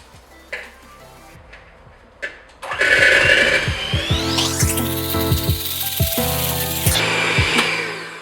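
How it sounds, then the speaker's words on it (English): An electric whisk beating buttercream for a rainbow cake starts after a few quiet clicks and runs at high speed with a loud, steady motor whine, broken by scraping and rattling against the bowl. "So I'm just going to whisk it until it's light and fluffy."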